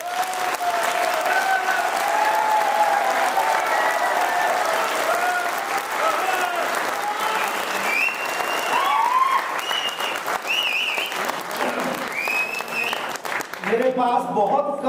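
An audience at a motivational training session claps steadily for about fifteen seconds, loud and continuous, with voices and cheering mixed into the applause.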